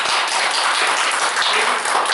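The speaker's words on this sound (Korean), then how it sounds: "지금 박사님께 큰 박수 부탁드리겠습니다" Dense, steady applause from an audience at a Korean history lecture fills the room, a close, continuous clapping wash with no pauses.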